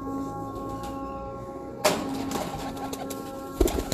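Pigeons coo softly, quiet and close, over a low steady hum, with a sharp knock or thump partway through and another near the end.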